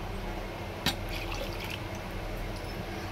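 Water swished around a mixer jar to rinse out leftover mango pulp, with soft liquid sloshing and one sharp clink early on, all quiet and close.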